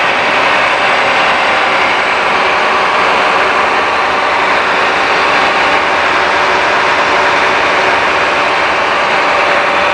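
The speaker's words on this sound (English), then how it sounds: "Bus is running great." 2010 Blue Bird All American bus with a rear-mounted ISC diesel engine idling, a steady loud broadband rumble with an even, unchanging drone and no talking.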